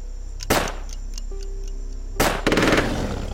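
Gunfire in the video game UFO: Aftermath: a sharp shot, a short high electronic tone, then a rapid burst of cracking rounds with a trailing clatter, heard alone without speech.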